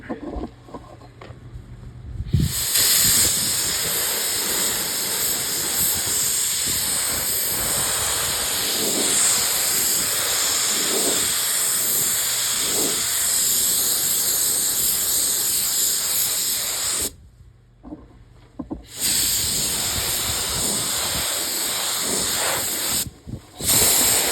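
A paint spray gun lays the final coat on a Lamborghini bumper during repair, a close, steady hissing spray that runs continuously with two brief pauses between passes.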